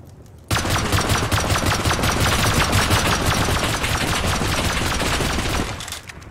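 Sustained rapid automatic gunfire in the survival game Rust bursts in suddenly and rattles continuously and loudly for about five seconds before cutting off.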